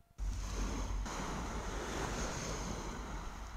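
A phone plays back a recording of sea waves at Weymouth, a continuous broad rush of surf mixed with wind noise. It starts abruptly after a brief quiet moment and stays steady and full throughout, with no voices.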